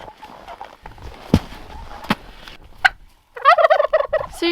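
A turkey lets out a loud, rapid, rattling gobble near the end, after a few sharp knocks and quiet outdoor noise in freezing weather.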